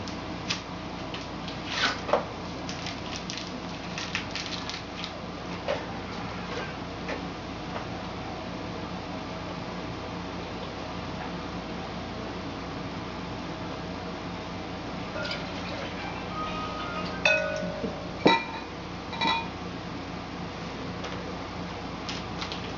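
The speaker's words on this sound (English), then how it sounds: "We're going to need to combine a cup of milk and your pudding mix." Milk and pudding mix stirred together in a bowl, with light, irregular ticking taps of a utensil against the bowl, faint and close, growing busier in a few short bursts near the end.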